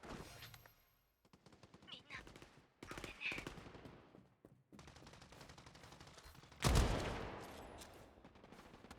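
Rapid bursts of AK rifle fire from a first-person shooter video game, coming in loud clustered volleys with one heavier blast near the end, mixed with game sounds and some voice activity between shots.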